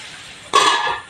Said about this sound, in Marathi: झाकण ठेवते.